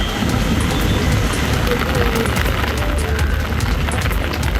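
Heavy rain pours down in the Nilgiris district around Gudalur and Pandalur, a dense, steady hiss of downpour that fills the scene without a break, loud and close.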